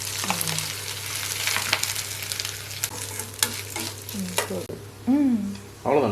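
Urad dal and mustard seeds crackle and sizzle steadily in hot oil, close and fairly loud, with a spoon stirring through the pan and brief scraping bursts near the end; a few short voiced sounds come through.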